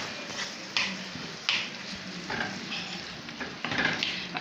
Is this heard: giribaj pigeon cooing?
no